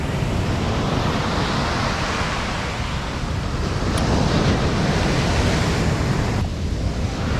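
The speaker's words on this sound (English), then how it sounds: "The waves are pretty chaotic here" Ocean waves crash at Copacabana beach in rough, chaotic surf, a loud continuous roar of breaking water mixed with wind buffeting the microphone, swelling slightly midway.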